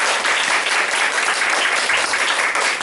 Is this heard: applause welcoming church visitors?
yes